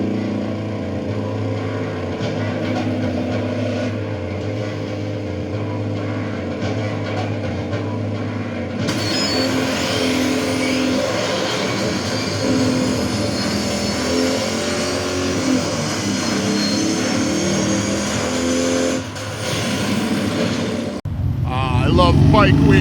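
Motorcycle engines idle and rev at Bike Week in Myrtle Beach, a steady motor drone that swells louder midway, with a sharp revving burst near the end.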